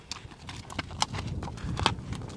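Hooves of a horse kept for ulak goat-pulling games clop at an irregular walking pace on hard ground, moderately close and fairly soft, with a few sharper strikes and low background noise.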